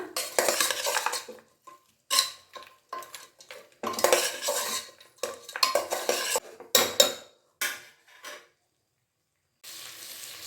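Mutton head pieces fry in oil with masala while a utensil clanks and scrapes against the pot in irregular bursts, separated by short pauses.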